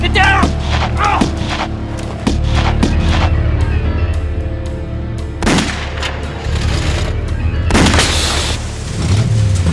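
Gunshots in a tense confrontation ring out as several sharp, loud cracks and booms spread irregularly over several seconds, mixed with shouting voices and commotion.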